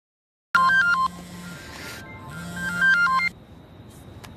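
A phone rings with an incoming call, two bursts of a bright electronic ringtone melody separated by a short pause, close and clear against a quiet background, with no talking.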